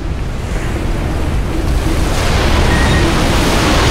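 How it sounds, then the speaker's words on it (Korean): Huge ocean waves roar continuously in the Call of Cthulhu video game. The loud, dense surf grows slightly stronger toward the end and is heard alone, with no voices. "엄청난 파도구만!"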